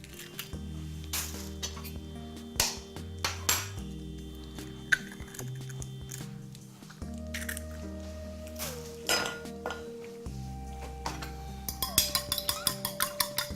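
Eggs cracked against a bowl and broken into it for an omelette in a Malaysian kitchen, heard as sharp clinks and taps over a sustained tonal background, with a quick run of clicks near the end.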